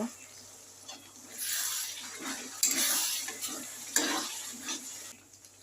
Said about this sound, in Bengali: সামান্য একটু জল দিয়ে আবার মশলাটা কষিয়ে নেব